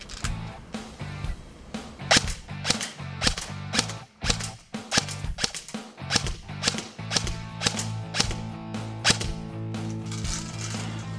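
King Arms VSS Vintorez airsoft rifle, version 2 chamber fitted, firing at a target about 7 metres away: a long series of sharp, close shots in irregular bursts, each crack followed by a low mechanical thump, with no talking.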